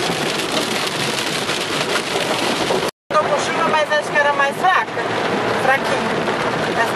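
Steady rain pours over a coffee plantation in northern Paraná, a constant wash of drops that carries on beneath people talking, with one brief cut to silence.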